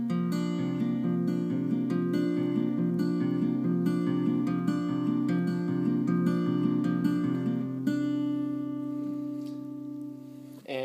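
Acoustic guitar fingerpicking a song, thumb and fingers alternating in a continuous rolling pattern of bright plucked notes, close and clean, ringing out on a final chord near the end.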